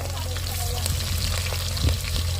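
Onions, green chillies and tomatoes fry in hot oil, making a dense, continuous sizzle close by, with faint spatters throughout.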